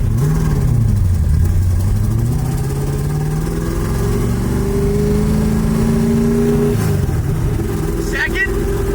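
A 1965 Ford Mustang with a modified V8 engine accelerates while driving, its loud, near engine note climbing steadily in pitch, dropping sharply near the end and then rising again.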